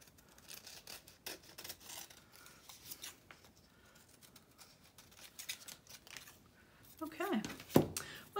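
Scissors cut through tissue paper washi tape, giving a run of soft, scattered snips and paper rustles, close and fairly quiet, with a few louder crisp cuts near the end and a voice speaking briefly.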